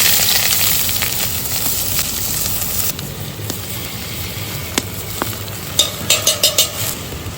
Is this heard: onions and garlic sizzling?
yes